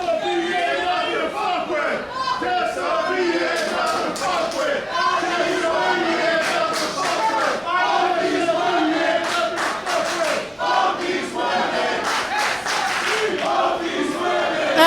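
A wrestling crowd in Berwyn chants and shouts for a women's match, split between two wrestlers, with loud rhythmic group chanting and cheering that rises and falls continuously.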